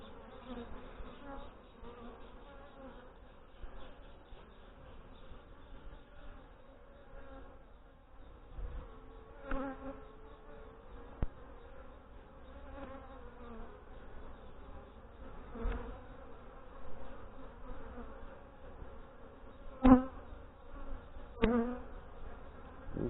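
Honey bees in a swarm-prone backyard hive buzz in a dense, steady drone around the hive frames, with close wingbeats passing by the listener and several sharper knocks and bumps of handling. No one speaks.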